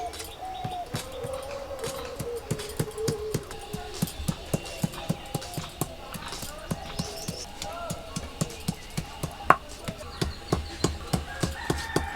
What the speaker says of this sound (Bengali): রসুনটা বাটা হয়ে গেছে, এখন আদাটা বেটে নিচ্ছি।